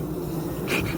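Bees buzzing and fanning inside an irrigation drainage pipe, a steady close droning hum with a brief louder swell near the end.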